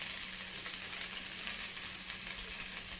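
Coconut, jackfruit paste and jaggery filling softly sautéing in a pan over low heat, a steady faint hiss of frying that runs evenly throughout with no talk.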